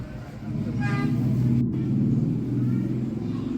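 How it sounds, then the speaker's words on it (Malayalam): New Tamil Nadu RTC buses rumble at a busy bus stand by a railway station, with a low, steady engine drone and a short horn toot early on. "തമിഴ്നാട് ആർ ടി സിയുടെ പുതിയ ബസ്സുകൾ"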